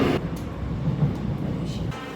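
A subway train in motion, heard from inside as a loud, steady rumble of wheels and carriage noise with a brief hiss at the start and slight shifts in tone.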